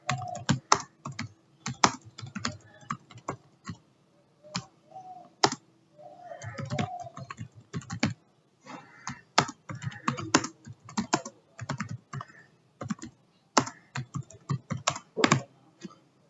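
Quick, irregular clicking of computer keyboard keys as someone types a database query, steady bursts of keystrokes with brief pauses over about sixteen seconds, close and fairly quiet with no speech.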